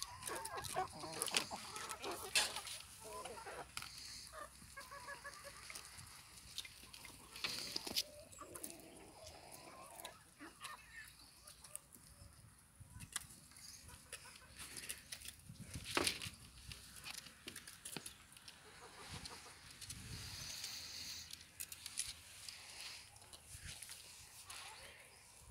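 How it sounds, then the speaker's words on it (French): Brahma chickens cluck and call intermittently at close range, with scattered rustling and occasional quiet talk in the background. "Voilà ma jolie poule Brahma là."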